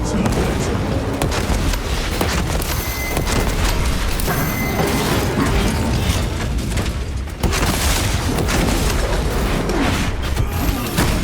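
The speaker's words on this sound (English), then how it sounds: "Frag grenade out!" Frag grenade blast in the 2024 Warhammer 40K Space Marine 2 campaign on Xbox Series X/S, a loud boom buried in constant dense battle noise with gunfire and rumbling effects throughout.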